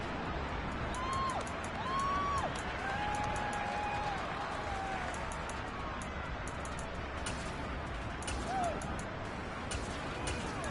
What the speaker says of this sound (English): And the home crowd loves it.